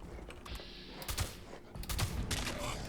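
A combat shotgun fires in Fallout 76, a few sharp blasts in quick succession mixed with mechanical clacks and creaks, fairly quiet overall.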